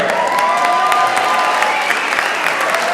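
An indoor audience applauds the clients of Merrick at an evening event, with dense, sustained clapping filling the room, loud and steady throughout.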